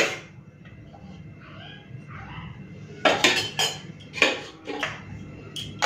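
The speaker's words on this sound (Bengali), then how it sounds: "চলুন গরম গরম ভাত নিয়ে নিলাম।" Hot rice served onto a plate late at night, a quiet start followed by sharp clinks and clatters of serving spoon and dish, close and uneven.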